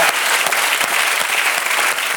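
A studio audience at a French television talk show bursts into steady, dense applause that fills the room at full volume with no talking over it.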